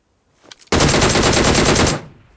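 A DP light machine gun fires in the PUBG Mobile battle royale game, one sustained rapid burst over about a second, loud and close, following a few faint clicks.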